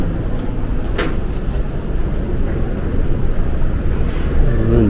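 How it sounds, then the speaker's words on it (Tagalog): A jet aircraft passes overhead, a steady, broad roaring rush that fills the whole stretch at fairly loud level, with a brief sharp click near the start. "Yung jet."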